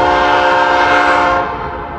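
A Norfolk Southern intermodal freight train's horn blares in a single loud, close, sustained chord that fades slightly near the end over rail rumble.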